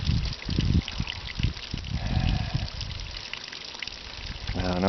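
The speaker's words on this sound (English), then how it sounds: "I've opened my water tanks." Water drains from the tanks of an off-grid RV in winter, a steady close trickle and gush with irregular splashy bursts early on.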